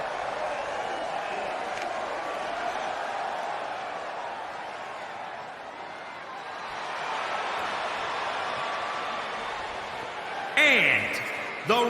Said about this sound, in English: Listen to this crowd, guys. They're fired up for this one.